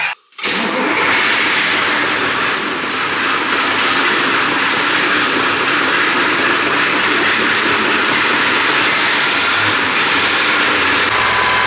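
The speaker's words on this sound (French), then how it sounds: "il y a un petit moment qu'il n'a pas démarré, il va falloir insister un petit peu" Old vehicle engine cranked after long disuse, a loud steady mechanical roar after a brief opening click, running continuously close by with no talk.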